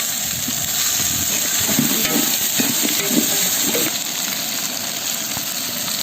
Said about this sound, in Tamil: அடுத்து நம்ம வந்து சின்ன வெங்காயத்தை போட்டுக்கலாம் முழுசாகவே போட்டுக்கலாம்